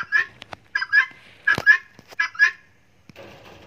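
White Muscovy ducks give a close series of short, harsh honking calls, often in quick pairs, before falling quiet to faint rustling.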